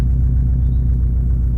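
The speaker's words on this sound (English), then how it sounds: "the exhaust note has this very characteristic burbling sound to it." Deep, uneven burbling exhaust note from a Subaru Impreza WRX STI Prodrive with unequal-length headers, loud and close, a steady throbbing idle lasting a moment with no voices.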